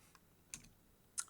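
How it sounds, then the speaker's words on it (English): A few soft, separate key clicks on a computer keyboard as the F2 key is pressed, quiet and close, with small sharp taps spaced apart and no talking. "I'm going to press the F2 key right now."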